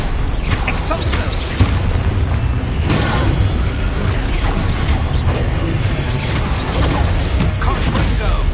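Exposo spell explosion in the Hogwarts Legacy video game, a dense, continuous crash of booming blasts and crackling debris amid loud combat noise, with a voice shouting over it.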